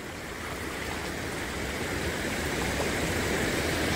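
Flood water from the swollen Borgaon stream near Akluj rushes over a bridge, a continuous broad roar of moving water that swells slightly louder toward the end, with no one speaking.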